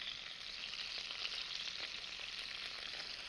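Chicken pieces browning over high heat in a high-sided chicken fryer pan, a steady close hiss of frying with light crackles and spatters running throughout, no one talking.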